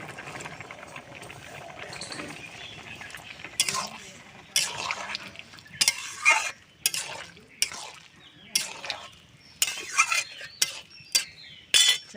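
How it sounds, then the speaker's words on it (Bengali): Potato pieces go into a pot of simmering chana dal: a series of distinct splashes and clinks of utensil on pot, growing more frequent in the second half, with quiet cooking sounds between. "ছোলার ডালে আলুটা এখন দিয়ে দেব"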